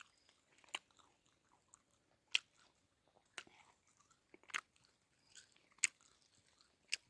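Crunchy food being bitten and chewed close up in a forest camp, sharp crisp crunches spaced a second or so apart over a quiet background, with no talking.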